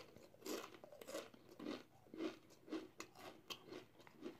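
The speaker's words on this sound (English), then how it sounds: "I hope y'all can hear this crunching" Doritos Flamin' Hot Nacho chips being crunched close up in a quiet room, about eight crisp bites and chews in an irregular rhythm, faint but distinct, with no talk.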